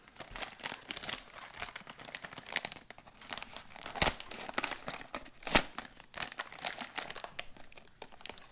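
A British military ration muesli pouch being cut open at the top, crisp crinkling and tearing of foil packaging with sharp snips and rustles in quick irregular bursts, close to the microphone.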